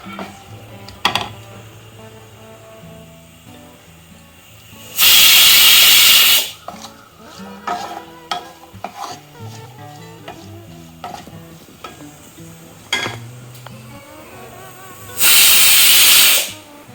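A pressure cooker vents steam in two loud bursts of hissing about ten seconds apart. Between them, food fries and sizzles in a pan with clinks of stirring, all nearby and with no one speaking.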